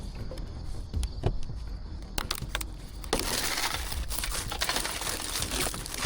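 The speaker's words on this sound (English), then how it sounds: "He broke the glass!" Car window glass shattering in a theft, a few sharp cracks and crunches followed by a sustained crackling, crumbling rush of breaking glass close by, with no talk.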